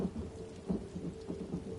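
Steady rain with low thunder rumbles in the video game Elder Scrolls Online, a constant soft patter with faint rolling swells, no voices.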